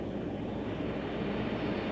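An aircraft engine drones steadily in flight toward McMurdo Station, the main U.S. base in Antarctica, a continuous dense roar with no breaks or voices.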